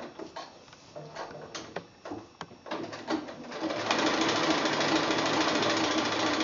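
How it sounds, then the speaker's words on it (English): A sewing machine stitches quilt applique around a final corner, a dense run of fast mechanical needle clatter that starts in short bursts and then settles into a steady, close, continuous whir. "Do a little stitch into the corner."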